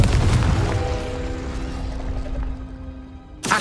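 A Confringo fire spell explodes in the Hogwarts Legacy video game, a loud booming blast that rumbles and rings out over about three seconds before a second burst hits at the end.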